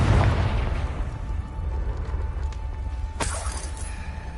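A Confringo blasting spell explodes in Hogwarts Legacy, opening with a heavy boom that fades into rumble, followed by a sharp shattering crack shortly after.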